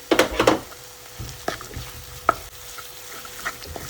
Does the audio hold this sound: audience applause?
no